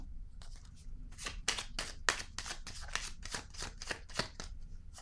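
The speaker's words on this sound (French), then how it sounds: "Je vais déposer une carte ici." Tarot cards are handled and set down on a table, producing a series of soft, crisp slaps and rustles at close range, irregularly spaced across a quiet room.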